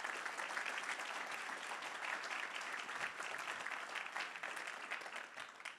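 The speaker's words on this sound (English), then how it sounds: "give an applause to all of those folks" Applause from an audience at a welcome and opening session, a steady, even wash of many hands clapping throughout with no speech over it.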